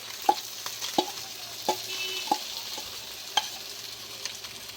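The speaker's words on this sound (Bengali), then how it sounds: "এই যে আমার সেদ্ধ করা ডালগুলোকে আমি এখন কড়াই দিয়ে দিচ্ছি।" Boiled lentils go into a pan of onion and garlic, with a soft sizzle and a string of distinct metal spoon clinks against the pan as they are stirred in.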